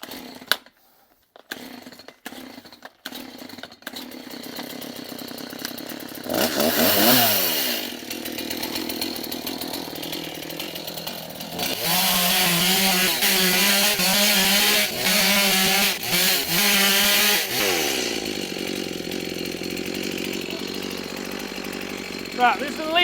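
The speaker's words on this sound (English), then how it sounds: "I think this chainsaw's going to really struggle getting through here" A chainsaw cuts through wood, its engine revving in steady strained bursts that bog and rise for several seconds, loud and close, with quieter clattering and handling noise before and after.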